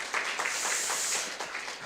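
An audience at a business presentation gives brief applause: a short, faint burst of clapping from many hands that fades within two seconds.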